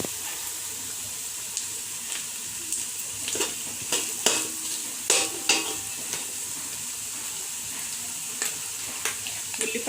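Onions for prawn biryani sizzling in oil while being stirred, a loud continuous frying hiss with repeated scraping and clattering strokes against the pan.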